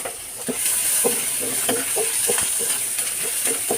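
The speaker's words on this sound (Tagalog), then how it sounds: "So, mainit na ang ating kawali, guys. Ilalagay ko na ang luya." Ginger sizzles in a hot pan while being stirred, a steady frying hiss close by broken by soft rhythmic scrapes of the spatula.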